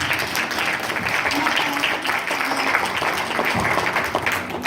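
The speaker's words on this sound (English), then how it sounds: "Let's clap for Austin, please." An audience at a Black History program applauds a student's presentation, with dense, steady clapping from a crowd that holds for several seconds alongside some background voices.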